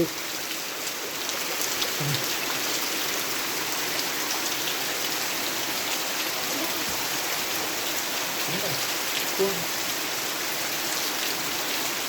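Steady, dense rain falling on surfaces, a constant hiss throughout with no pauses, fairly loud and close.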